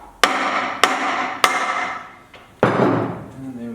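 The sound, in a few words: soft hammer knocking off aluminium bell housing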